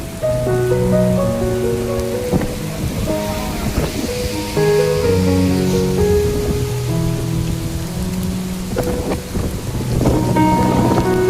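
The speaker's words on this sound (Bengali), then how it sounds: "ঝড়ের আওয়াজটা আশা করছি আপনারা সবাই শুনতে পাচ্ছেন।" Heavy rain pours steadily while strong wind roars and gusts through bending palm trees in a village, with low rumbling booms rolling through the storm continuously.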